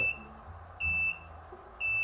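Short high-pitched electronic beeps from a Rockwheel electric wheel while its power button is held down, repeating about once a second, clear and close over a quiet background.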